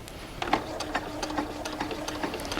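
A sewing machine stitches a curved quilt seam in a quiet room, its needle ticking in quick, steady bursts with a low motor hum underneath, fairly soft and close, with no one talking.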